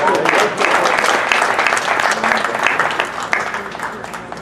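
An audience at a Urdu poetry gathering breaks into sustained applause, dense clapping filling the room at a steady, loud level throughout without a break.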